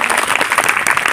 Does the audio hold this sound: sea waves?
no